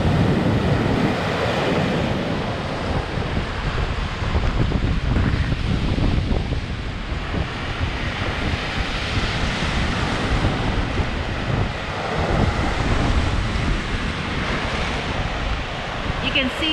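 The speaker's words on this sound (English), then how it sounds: "Waves are coming in stronger." Icy lake waves break on the Keweenaw Bay shore in strong wind, a loud, continuous surging wash with gusts buffeting the microphone throughout.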